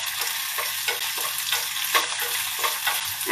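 Sliced onions frying in a pot, a steady close sizzle broken by periodic stirring scrapes, fairly quiet with no voice.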